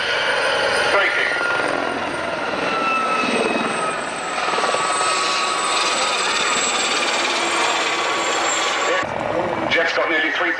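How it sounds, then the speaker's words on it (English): Gazelle helicopter at an airshow, its rotor blades beating in a steady loud roar with broadband engine whine throughout, easing briefly midway and shifting near the end, while a commentator talks over it. "Rotor blades turning, the tips of the blades are actually approaching 400 miles an hour and only some 15 feet apart in this manoeuvre."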